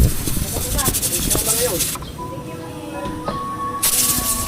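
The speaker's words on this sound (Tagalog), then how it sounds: "Singaw naman oh." Steam hissing out at a roadside hut during preparations for a long trip, heard as a loud, steady hiss that cuts off for about two seconds and then returns. Voices talk underneath it.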